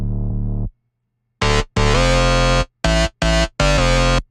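A sub bass layer on its own track in Reason 12, low-passed and mixed under other synth elements: a brief low tone, a pause, then a run of loud sustained bass-heavy synth notes in a choppy rhythm.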